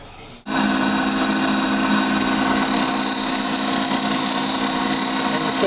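A woodworking profile cutter, a repeating machine for small toy parts, starts up and runs as its knife shaves a wooden piece: a loud, steady mechanical whir and drone that holds without a break.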